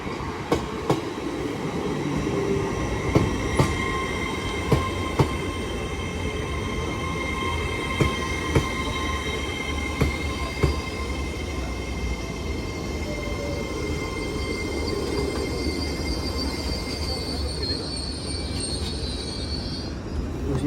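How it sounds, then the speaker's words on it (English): A TransPennine Express class 802 train bound for Newcastle pulls into Newton-le-Willows station, a close rumble with rhythmic wheel clicks over the rail joints and squealing wheels rising near the end. "Train now arriving is a Transparent Express 802 going to Newcastle."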